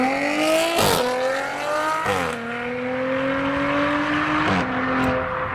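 Modified Ford Cortina in Allen Man livery and a luminous Audi RS5 driving at a custom car meet, engines droning loud and close with rising revs and gear changes, broken by sharp bursts of tyre noise.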